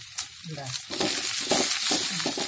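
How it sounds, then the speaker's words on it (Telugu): Curry leaves and mint hit hot oil with cashews browning in a pan for wheat rava upma, a sharp sizzle that swells into steady frying crackle with stirring and faint clinks. "కొంచెం కరివేపాకు కూడా వేద్దామండి మర్చిపోయాను"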